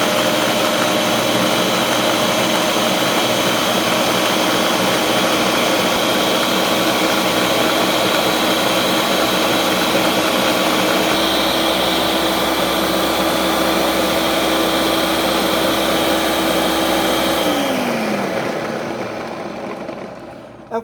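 A blender whirls a milk and sugar smoothie made without ice, a loud steady motor drone running unbroken for most of the stretch, then spinning down and fading out at the end.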